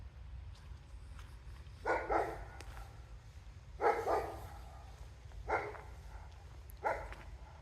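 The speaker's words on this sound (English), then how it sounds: "Oh, it's a big, what do you call it, dog? Great Dane." Great Dane barking in the distance near All Saints Church, Ashover, four deep separate woofs spaced a couple of seconds apart over a low outdoor rumble.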